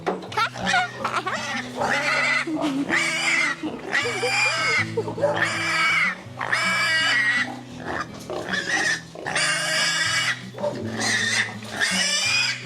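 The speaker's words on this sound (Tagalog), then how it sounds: "Ngayon kakalasin natin ito at iisa-isahin na namin ng tatay ang mga biik." Piglets about 52 days old squeal loudly and repeatedly in a pen as they are handled one by one, the shrill cries coming in dense bursts close by, with people talking underneath.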